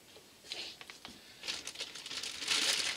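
Tissue paper wrapped around bags of vintage Russian vacuum tubes crinkles and rustles in close, uneven bursts. It grows louder and busier toward the end, with no talking.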